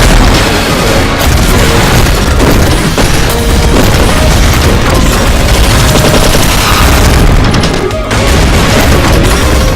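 Weapons fire all at once in the video game Hangeki, producing a dense, loud, unbroken barrage of booms, bursts and explosions.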